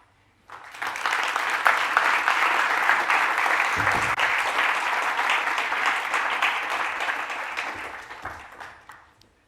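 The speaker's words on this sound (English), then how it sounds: "I'd like to invite our three speakers to join me on stage with a warm applause" An audience at a peace conference opening ceremony applauds as three panel speakers come on stage, a sustained crowd of clapping that rises sharply, holds for several seconds and fades out.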